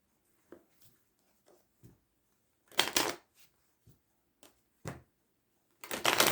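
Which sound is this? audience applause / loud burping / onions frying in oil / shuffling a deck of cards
shuffling a deck of cards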